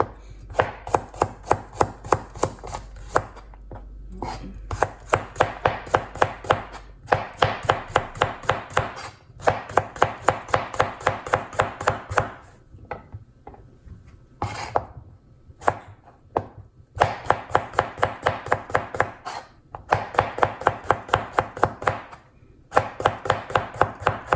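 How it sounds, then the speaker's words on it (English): A knife chops cucumber on a sheet of backing paper for homemade pickles. The quick, evenly spaced cuts come in steady bursts separated by short pauses, close and crisp, with no talking. "use this paper as a backing paper so that I can cut the cucumber"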